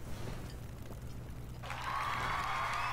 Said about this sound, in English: You got the cheering again, of course.